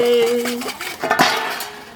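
Metal pots and utensils clink and scrape against each other in a few quick knocks, close by, with a brief ringing tone at the start.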